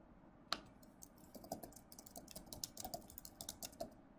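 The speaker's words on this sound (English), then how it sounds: "Here you'll have the opportunity to simply type in an address." Quick, uneven run of light keystrokes on a computer keyboard while an address is entered, close and fairly quiet, with a sharper click near the start and no voices.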